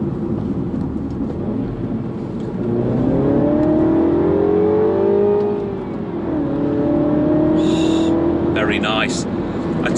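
A 2016 Mini John Cooper Works F56 accelerating along an open road, engine note rising and falling through gears from inside the cabin, steady and fairly loud, with a person talking over it.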